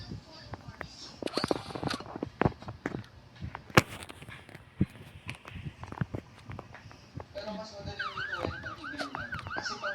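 A police siren in the Roblox game Brookhaven wails in quick rising and falling cycles near the end, after a stretch of footsteps and sharp game clicks.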